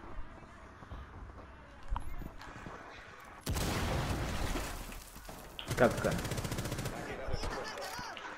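Gunfire in a video game, quiet game sounds at first, then sudden loud bursts of rapid automatic shots that cut out and resume, with some voice underneath.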